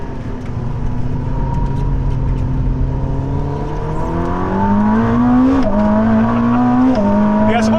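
Ferrari SF90 plug-in hybrid supercar with an 8-speed DCT accelerating hard, its engine note climbing steadily and stepping down at quick gear shifts, loud and close from inside the car.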